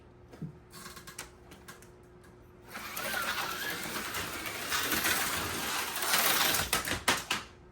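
B.O.R Built Viper V1 and V3 slot cars running on a track, one with a 3.5 ohm armature motor in a V3 chassis: a sustained, buzzing whir of motors swelling and holding, with clattering clicks before and after.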